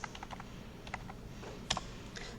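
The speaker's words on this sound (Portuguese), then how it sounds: "Testando o teclado." Keystrokes on a computer keyboard during a Zabbix appliance login, a quiet scatter of light clicks in short bursts with pauses between them.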